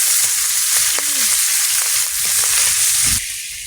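Silver carp pieces fry in oil with a loud, dense, close-up sizzle and a few faint scraping touches. The hiss drops slightly just before the end.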